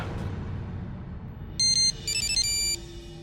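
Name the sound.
phone ringing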